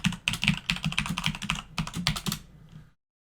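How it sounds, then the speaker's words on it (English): Password typed on a computer keyboard: a fast, close run of crisp key clicks in uneven bursts for almost three seconds, then abrupt silence. "I typed it in wrong."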